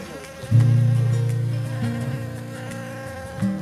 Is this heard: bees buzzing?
yes